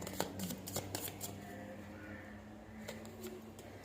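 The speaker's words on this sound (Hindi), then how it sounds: "एक कार्ड और निकालेंगे ताकि और भी अच्छे से क्लैरिफाई हो जाए।" Tarot cards drawn from a deck, giving quick papery flicks and slides in a short run of soft, close handling sounds with a low background hum and no talk.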